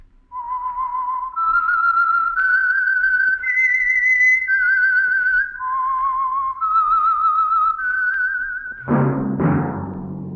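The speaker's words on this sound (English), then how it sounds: "that whistle is your signal for the Signal Oil Program" A tune whistled clearly and alone, the theme of the radio mystery program The Whistler, with sustained notes stepping up and down in a steady melody, then a sudden burst of louder, fuller sound at the end.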